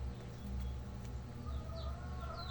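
A few chickens cluck quietly in short rising calls over a low background rumble, faint and somewhat distant.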